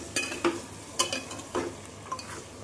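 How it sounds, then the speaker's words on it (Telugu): Mutton pieces fry in oil while being stirred, giving a soft sizzle with irregular scraping stirs and light clinks of a spoon against the pan, close and moderately quiet, with no voices. "కలర్ మారే వరకు ఫ్రై చేసుకుంటూ ఉండాలండి మనం ఇలాగే ఆయిల్లో"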